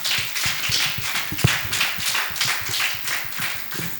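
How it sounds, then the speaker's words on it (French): Rhythmic clapping in a steady beat, a group clapping together in unison with occasional louder claps, fairly close and continuous. "Sous vos applaudissements, s'il vous plaît."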